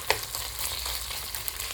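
Kenyan-style pork wet fry sizzles steadily in hot fat in the pan, a continuous close crackle with a few sharper pops and stirring scrapes, no voices.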